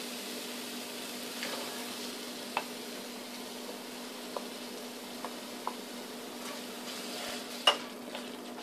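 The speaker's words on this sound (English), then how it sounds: "Allow this to fry for some time" Green masala fries in a pan for a black-eyed bean curry, a faint, even sizzle with a low steady hum beneath and occasional light clicks of a utensil, one slightly louder tap near the end, no voices.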